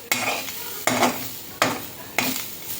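Grated coconut being dry-roasted lightly in a pan, four distinct stirring scrapes at a steady pace with a soft sizzle between them, close and fairly loud with no voices.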